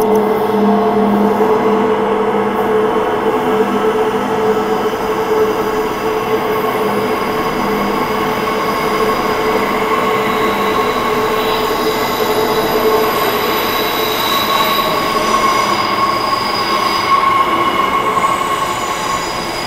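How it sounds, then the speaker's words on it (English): A Mandurah-bound commuter train rumbles loudly and steadily into a station, wheels squealing and grinding on the rails throughout. "Mandurah bound train, here it is."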